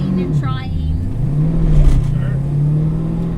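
A 650 hp 1969 Camaro built by Detroit Speed accelerates in first gear with a loud, droning engine note that wavers and climbs, close up, with a person talking during it.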